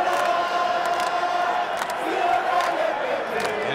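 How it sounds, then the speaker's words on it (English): South African supporters in a packed stadium at a 2019 Rugby World Cup quarter-final against Japan, a loud sustained crowd roar of cheering and chanting voices filling the whole stretch, with some commentary talk mixed in. "the South African supporters are starting to find their voice as well"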